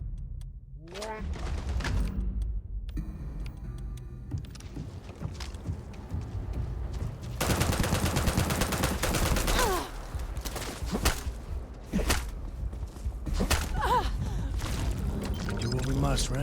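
Gunfire in Starfield arrives in scattered bursts and sharp cracks, with a long dense volley in the middle, set against shouting voices and a busy combat mix of whooshes and impacts.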